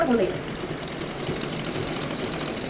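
A sewing machine stitching folded fabric runs in a steady, fast mechanical rattle close by throughout, with a voice speaking over it at the start.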